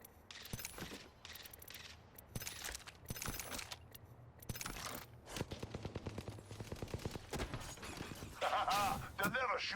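Rapid bursts of gunfire in the battle royale video game Apex Legends, clusters of sharp shots and automatic volleys alternating with brief gaps, loud and close, with shield-break style crackles near the end and players talking throughout.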